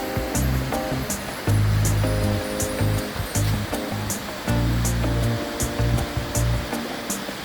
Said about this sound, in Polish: Popatrzcie, wodospad Kamieńczyka, pierwszy przystanek.